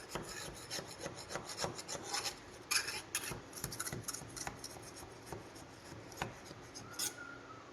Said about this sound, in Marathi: सुरुवातीला आपण हा जो टीन आहे त्याच्या कडेनं चाकूने खाचा मारून घेऊयात.